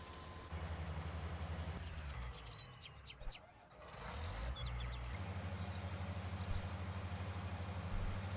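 A combine harvester engine in a farming game idles as a low steady drone, cuts out briefly into near quiet, then restarts and settles back into a loud, even rumble.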